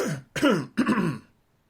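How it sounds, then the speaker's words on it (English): Three quick, harsh bursts of throat clearing, close and loud, separated by short pauses before it falls silent. "was that a dry cough, or was that just me needing to clear my throat?"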